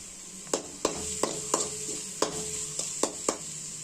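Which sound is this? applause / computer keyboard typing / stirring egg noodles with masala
stirring egg noodles with masala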